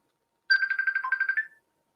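Incoming Facebook call ringtone on a phone, a single short burst of rapid warbling electronic trills lasting about a second, clear and close with silence around it and no speech.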